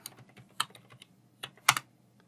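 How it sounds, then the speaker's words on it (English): Fingers tap a password into a computer keyboard at a Windows server login, a short run of quiet, irregular key clicks with two or three sharper presses, no talking. "I'll type in my new password."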